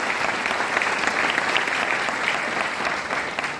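Steady, dense applause from a crowd, loud and continuous throughout with no talking.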